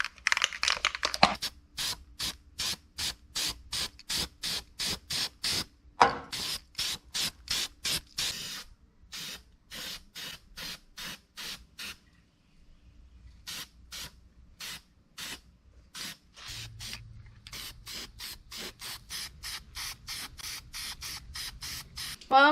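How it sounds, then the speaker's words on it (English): Spray paint hisses onto bare metal on a Nissan Hardbody mini truck build, coming in many quick, rhythmic short bursts with brief pauses between them, close and fairly quiet. "I'm gonna go ahead and dust it with some spray paint."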